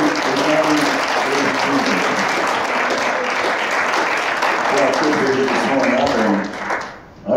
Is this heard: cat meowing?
no